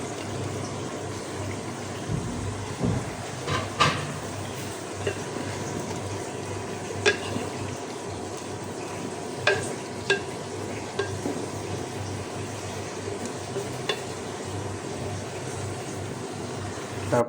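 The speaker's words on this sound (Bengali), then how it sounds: "এখন আমরা মাংসতে আলুর যে স্লাইসগুলো কেটে নিয়েছি ওগুলো দিয়ে দেব।" Chicken for khichuri sizzles steadily in a pan as sliced potatoes go in with the nearly cooked meat, a continuous frying hiss broken by occasional light clinks and stirring scrapes.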